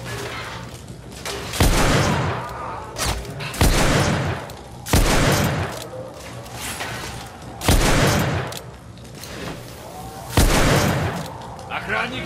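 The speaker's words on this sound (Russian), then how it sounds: "Я под обстрелом" Gunfire rings out during combat in The Order: 1886. Loud, heavy bursts of shots and booms repeat every couple of seconds over a background of battle noise, and a voice speaks briefly between the volleys.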